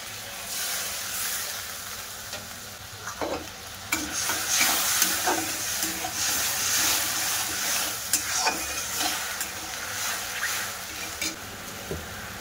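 Sugar with a little water melts in a pan while it is stirred steadily, producing a continuous bubbling hiss and sizzle overlaid with repeated scraping spoon strokes and occasional clicks against the pan.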